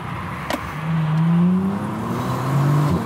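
A Bentley Continental GT V12 drives through a dynamic driving test, its engine a loud, steady drone that rises in pitch as it accelerates, heard from close by with a faint squeak of tyres.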